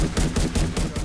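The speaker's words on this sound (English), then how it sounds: "I wonder if I can get away with shooting it." Rapid gunfire in The Division 2 video game, a short burst of several dense, loud shots in quick succession over about a second.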